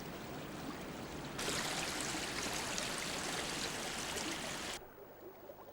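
Stream water flows through an ancient forest in a steady rushing wash that swells louder for a few seconds, then drops back to a softer trickle.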